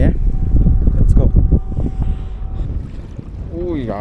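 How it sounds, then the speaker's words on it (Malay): Strong wind roars and buffets across a small fishing boat at sea near a jetty, a heavy, continuous rumble that blasts the microphone while a person talks briefly. "Angin padu amat geng."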